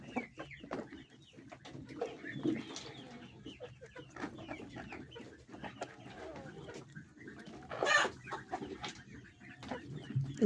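Farmyard chickens and a rooster cluck softly and steadily at a distance, with scattered pecking noises and one brief, louder squawk partway through.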